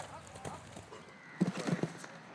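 Horses at an equestrian club in Abu Dhabi, with a few hoof clip-clops and snorting noises close by, while people talk over them.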